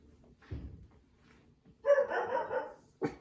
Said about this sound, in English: Oh, the puppies are barking.